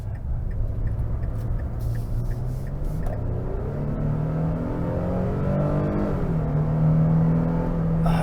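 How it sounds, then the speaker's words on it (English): A 2023 Nissan Frontier PRO-4X V6 pickup truck engine rumbles steadily from inside the cabin, its pitch rising smoothly as it accelerates, then easing and climbing again. "And the V6 sounds good."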